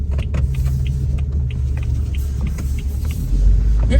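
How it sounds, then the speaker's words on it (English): Cars idling and creeping in a traffic jam on El Camino Real in San Juan Capistrano, heard as a steady low engine rumble with faint ticking clicks, swelling louder near the end. "Oh my, it's traffic jam."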